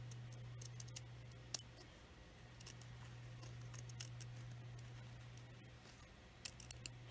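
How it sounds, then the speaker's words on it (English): Scissors trim the seam allowance on one side of a two-layer fabric seam while a camisole is sewn, giving faint, scattered snips and clicks over a steady low hum. "So I'm going to trim that down."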